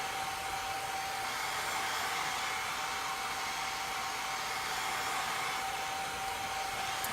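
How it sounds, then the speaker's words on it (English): A hair dryer blows steadily at close range, a constant whooshing hum with a thin high whine, running without pause and no one talking. "I just use my hair dryer and it works perfectly fine"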